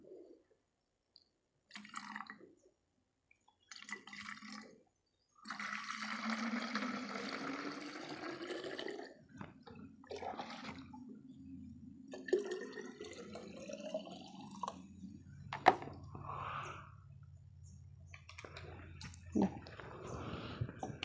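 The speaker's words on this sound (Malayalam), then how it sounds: "ഒരു ലിറ്ററിൻ്റെ ബോട്ടിലായതുകൊണ്ടാണ് ഞാൻ ഇതിനകത്തോട്ട് വെള്ളം നിറയ്ക്കുന്നത്." Water pours into a one-litre plastic bottle in uneven, faint bursts. It later becomes a steady trickle whose tone rises as the bottle fills, with a few soft knocks of handling.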